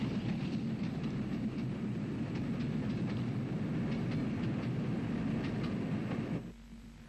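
A steam locomotive in Great Northern blue livery hauls a down local train near Adelaide in Ulster, a steady rumbling roll of wheels and carriages passing at moderate distance, fading abruptly near the end.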